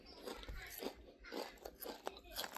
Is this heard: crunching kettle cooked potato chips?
yes